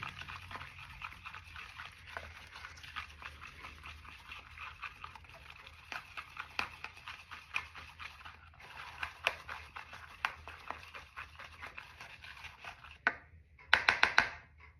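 A spoon mixing lemon-poppy seed cake batter in a bowl: soft, repeated scraping and clicking strokes at close range, steady and fairly quiet, ending in a brief burst of louder clatter.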